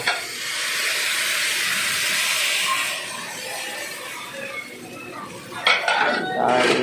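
A lid clatters onto a steaming cooking pot of crab and sponge gourd soup, following a steady hiss of steam and soft clinks of pans, with a brief cluster of metallic knocks near the end.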